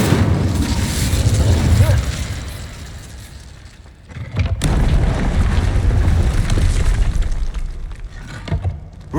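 A fiery Incendio spell in Hogwarts Legacy erupts in a loud whooshing burst of flame, preceded by a rumbling ambient bed and followed by a sustained roaring fire tail.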